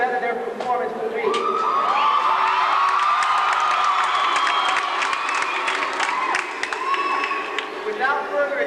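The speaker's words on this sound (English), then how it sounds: "Guys, they live off your cheers and applause." A high school rally crowd in 1988 cheers, whoops and applauds at length, a loud wall of voices and clapping with shouts rising over it, filling a big room.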